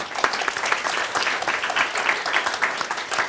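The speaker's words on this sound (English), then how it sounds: "Please join me in giving them a big round of applause." Enthusiastic applause from a crowd for presidential candidates, dense overlapping claps sustained throughout at steady loudness with no voices.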